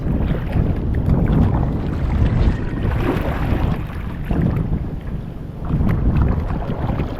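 A small boat runs fast over open sea during tuna season, hull and water rushing loudly and steadily with strong wind buffeting the microphone throughout and no rowing.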